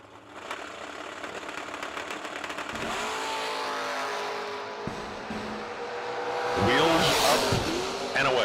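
Drag racing cars launch at the start of a run, engines revving and then surging into a loud roar that rises toward the end, with a voice talking over the early part.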